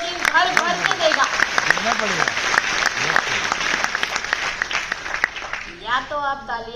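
Audience clapping at a business function in Nashik, a lively continuous patter of many hands with a voice speaking over it and brief speech emerging near the end.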